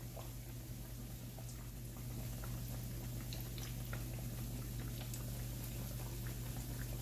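Sweet potato vegetable cutlets fry in hot oil with a soft, continuous sizzle and faint popping crackles, heard close and quiet over a steady low hum.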